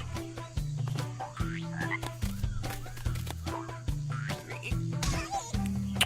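Frog croaking in the PC video game JuJu: repeated low, throaty croaks in a steady rhythm run through the whole stretch over game music, loud and close with no talk.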